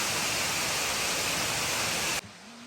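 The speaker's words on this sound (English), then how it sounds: "The waterfall opposite the cloud ladder cascades down, a truly magnificent sight." A waterfall cascades down opposite a long stone stairway at an ancient mountain temple in Beijing, a loud, steady broadband roar that stops abruptly near the end, leaving faint ambience.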